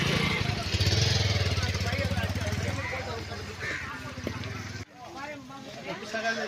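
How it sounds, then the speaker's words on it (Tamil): A fishing boat engine on a lake drones steadily at low pitch, close and fairly loud, with a busy babble of voices and shouting over it before it cuts off sharply and the talk carries on alone. "இதுதான் மீன் பிடிக்கிற போட்டுங்க."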